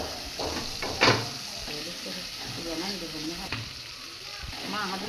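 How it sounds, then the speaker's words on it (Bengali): Chopped onion with soaked chili powder and turmeric frying in hot oil for a hilsa fish dish, a steady close sizzle with stirring scrapes and a sharp clatter near the start. "তেল গরম হয়ে গেছে, দিয়ে দিচ্ছে পেঁয়াজ কুচি, তারপর ভিজিয়ে রাখা মরিচের গুঁড়া আর হলুদ গুঁড়া"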